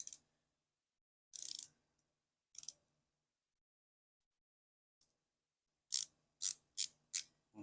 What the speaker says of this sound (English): I've got a little ratcheting adapter here.